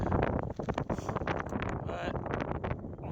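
Strong gusty wind at Bradley Gap on the Appalachian Trail, a loud rumbling roar battering the microphone with constant buffeting and crackling gusts, close and unbroken throughout.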